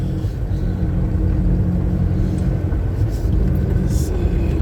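A propane-fuelled vehicle with a computer-controlled engine drives at speed, a continuous low rumble of engine and road noise heard from inside the cab.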